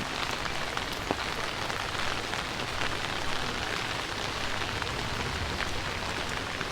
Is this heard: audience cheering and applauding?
no